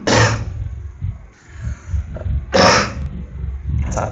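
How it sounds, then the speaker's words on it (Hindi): A lecturer in a Hindi-language biology lesson coughs twice: a harsh burst at the start and another about two seconds later, close to the microphone, with low room noise between them. "थोड़ी सी खांसी आ गई"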